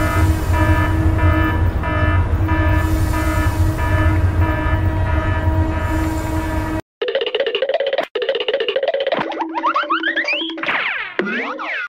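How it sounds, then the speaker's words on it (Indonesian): A CC203 train sounds a steady, loud horn-like drone with a pulsing rhythm for about seven seconds, then gives way to a string of springy, cartoonish boings and sliding tones. "Kereta CC203"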